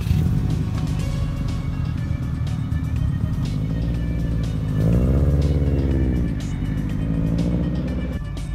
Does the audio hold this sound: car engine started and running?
yes